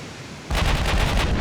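Main guns of a Mark II super battleship fire in Ultimate Admiral: Dreadnoughts, a sudden heavy boom that turns into a sustained, loud, rumbling roar with a rhythmic pulsing rolling on after the blast.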